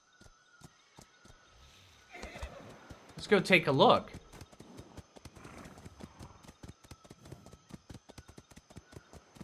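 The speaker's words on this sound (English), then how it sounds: "there's even horses here" Horses in a seaside cove in the video game Atlas give a loud neigh, followed by steady clip-clopping hooves. Someone speaks briefly.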